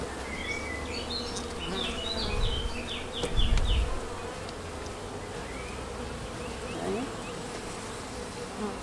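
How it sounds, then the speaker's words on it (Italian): Honeybees swarm and buzz around an open hive during beekeeping work, a steady close drone with a few louder passes and faint bird chirps behind. "è tutto pieno di api"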